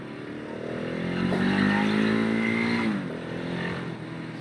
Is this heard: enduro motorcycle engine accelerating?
yes